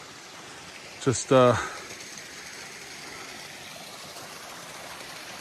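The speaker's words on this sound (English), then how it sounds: "Little baby waterfall here." A small waterfall in a woodland stream, heard from a bridge, gives a steady, even rush of water throughout, broken early by a brief spoken phrase.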